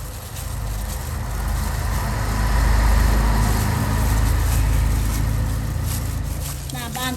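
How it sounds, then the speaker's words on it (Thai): Road traffic rumbling past a roadside kitchen where crispy fried pork on rice is being made: a steady low engine drone that swells in the middle as vehicles pass, with a voice over it. "ติดถนนนะคะ อาจจะมีเสียงรถดังนะคะ"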